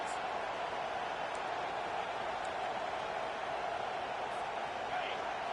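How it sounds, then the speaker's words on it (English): A large stadium crowd roars steadily during a college football game between Colorado and Texas, the sustained wash of cheering rising on a third-down defensive stand, loud and continuous with no break. "Decibels rising as the crowd gets behind this defense on third down."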